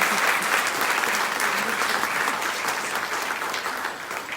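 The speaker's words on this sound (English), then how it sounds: "Give a big round of applause to each and every." An audience at a Jawan event gives a big round of clapping to honor martyrs and their families, dense sustained applause from a large crowd that gently tapers toward the end.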